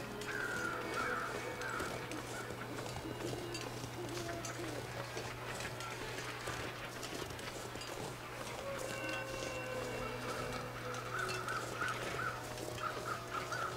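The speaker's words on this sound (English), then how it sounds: "I hear birds." Crows caw repeatedly in short bursts in the video game The Long Dark, over a steady low hum, some calls closer and clearer, others fainter in the background.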